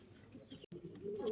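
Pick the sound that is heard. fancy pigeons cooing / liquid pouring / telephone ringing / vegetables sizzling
fancy pigeons cooing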